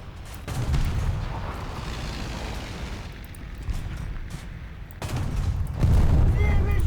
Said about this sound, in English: at least that Ju-87 got a decent bomb off